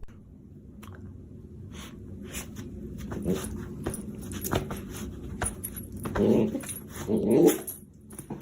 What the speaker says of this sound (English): This dog tried sweet potato for the first time.